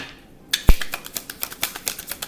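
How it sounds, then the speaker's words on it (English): A quick riffle of cards: a sharp snap followed by a rapid series of light clicking flutters, close and crisp. "I'm going to shuffle one more time"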